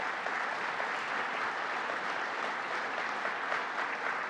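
A crowd applauds steadily, dense clapping at an even level throughout with no voices on top.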